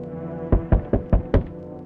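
Five evenly spaced heavy thuds on the other side of a door in the horror video game No, I'm Not a Human, deep, close and distinct over a low steady hum.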